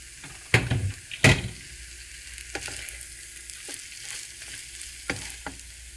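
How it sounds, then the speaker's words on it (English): Egg fried rice with oyster sauce and soy sauce frying in a pan, a steady faint sizzle broken by a few sharp scraping stirs near the start and end. "Then I'm going to stir it and let it fry."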